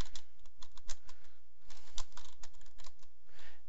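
Fast clattering keystrokes on a computer keyboard while a command is entered at a command prompt, a dense close-up run of taps that carries on steadily from start to finish with no talking.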